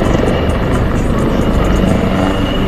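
A helicopter close by, its rotor giving a loud, steady, fast thumping drone that never lets up.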